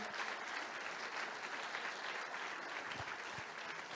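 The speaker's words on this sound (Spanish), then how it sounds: "Un aplauso, por favor." An audience at a Baptist church service applauds a pastor, a steady wash of many clapping hands heard at a distance and fairly faint, with no talking over it.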